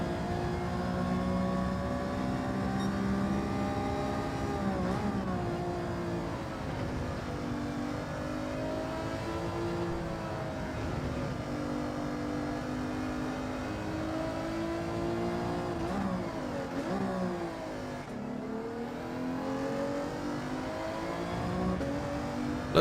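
Subaru WRX engine pulling hard on the throttle, a loud sustained rising drone that climbs in pitch through several gear changes, heard steadily without talk.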